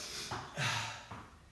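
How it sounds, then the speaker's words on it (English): Quick nasal sniffles and snorting breaths from someone mid-workout between push-up sets, close and fairly loud, in two or three short bursts. "I'm sniffling like a mofo."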